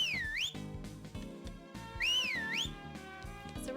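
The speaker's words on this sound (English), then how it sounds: "So we're gonna be doing some nice whistling." Whistling in the video game Harvest Moon: Magical Melody comes as two clear, swooping melodic phrases over a light backing tune. It is moderately quiet and has no talk over it.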